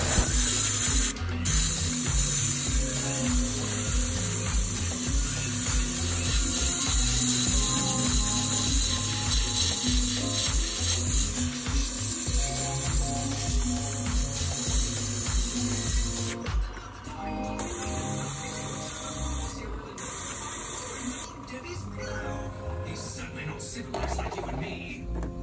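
An airbrush sprays hot pink paint onto a custom minnow fishing lure, giving a steady hiss that runs continuously with brief pauses near the end and faint mechanical clicks mixed in.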